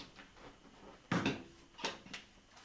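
Two sharp plastic pops a moment apart as an Opel Kadett rally car's door card clip lets go, followed by fainter knocks and rattles, close by with no talking.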